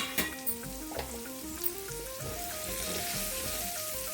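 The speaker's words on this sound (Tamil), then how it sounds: "இப்போ நம்ம இந்த கட் பண்ணி வச்சுருந்த சக்கரவள்ளி கிழங்கையும் போட்டுக்கலாம்" Cut sweet potato pieces fry in a pan with a soft, continuous sizzle and a few early stirring knocks, while a melodic tone rises and falls in the background.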